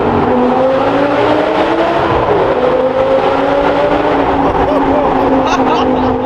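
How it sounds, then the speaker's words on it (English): An Audi R8 GT Spyder with the roof down drones loudly and steadily through a tunnel, a sustained engine roar reverberating without pause for several seconds. "you can just drop that back window down so that you can still get all of that beautiful engine noise"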